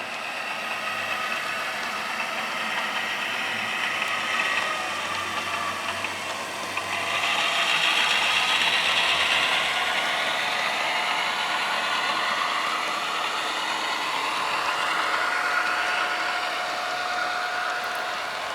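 An SP GP9 model train locomotive runs on a layout with a steady motor hum and whir that rises a little partway through, continuous and fairly close.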